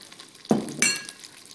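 Potato gnocchi dropped into a hot pan for a chestnut dish burst into a loud sizzle, followed by a second sharp hiss and crackle as more hit the oil, then a steady fading fry.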